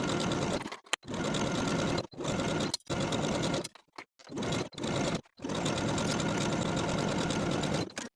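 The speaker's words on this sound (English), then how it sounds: "Then we'll stitch this seam with a 3/8 inch seam allowance and a stretch stitch." Close, loud sewing machine running a stretch stitch along a swimsuit seam with a 3/8 inch allowance, in several rapid bursts broken by short pauses before a longer steady run.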